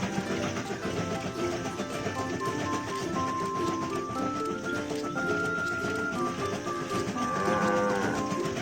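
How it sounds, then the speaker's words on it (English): Cartoon sheep bleat and moo-like animal calls sound in the BabyBus train-driving game as the sheep stand on a railway track, several loud, repeated cries over a busy, bright game-music backdrop. "Some sheep are on the train track."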